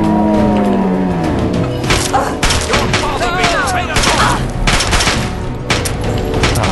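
Rapid gunfire crackles through a fast, dense stretch of Fallout 3 gameplay, with sharp repeated shots layered over constant loud game noise and a brief voice.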